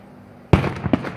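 Fireworks go off at a summer fair: a sudden sharp bang followed by crackling bursts, loud and fairly close against low background noise.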